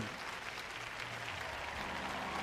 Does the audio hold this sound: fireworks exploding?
no